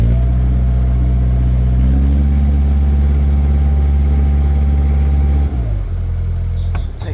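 A narrowboat engine on the River Thames in a strong stream, running loud and steady at high revs, its harmonic drone rising slightly, then dropping abruptly as the throttle is eased near the end.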